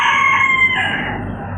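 A rooster crows once, loud and close, its call trailing off into a fading tail over low background rumble.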